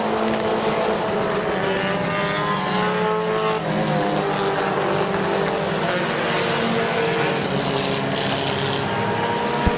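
Race cars roar around Midvale Speedway, a dense, loud and sustained engine drone with overlapping pitch sweeps as cars jostle for the lead, heard from trackside.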